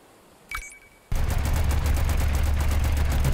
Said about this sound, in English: Great, we're firing already.